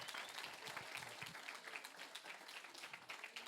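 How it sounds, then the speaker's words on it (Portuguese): A church congregation applauding during a Saturday service: continuous rapid clapping from many people, fairly quiet and distant, holding evenly for a few seconds. "Aplauda, aplauda, aplauda ao Senhor."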